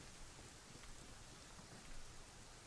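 Steady heavy rain pours down in the survival video game Rust, a dense, continuous hiss of drops on surfaces with no voices, swelling slightly near the end.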